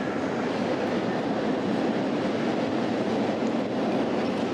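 A passing train gives a close, loud, steady rumble and rushing roar with faint rattling, continuous for the whole span with no voices.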